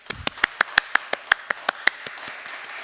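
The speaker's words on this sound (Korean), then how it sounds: "모든 교회 성도님들 박수로 환영해 주시기 바랍니다" Sparse, crisp handclaps in a church sanctuary during a Sunday service, a dozen or so distinct claps in a loose rhythm from a small congregation, close and unaccompanied, trailing off toward the end.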